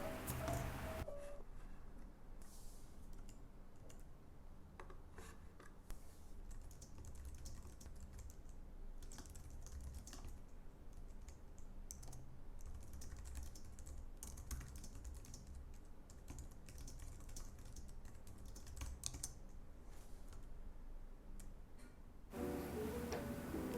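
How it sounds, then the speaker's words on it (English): Steady typing on a Logitech K470 wireless keyboard, a continuous run of light, quick key clicks for over twenty seconds, close and fairly quiet with no talking. "This is the Logitech Combo K470 keyboard and the M340 mouse."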